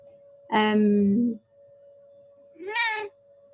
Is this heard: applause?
no